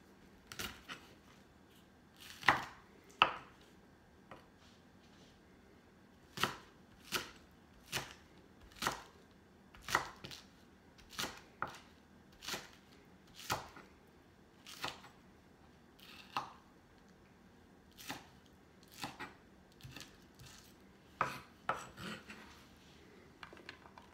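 A knife chops spring onion on a board in sharp, crisp knocks, irregularly spaced, some in quick pairs and others after longer pauses, close and clear over a quiet room, with no talk.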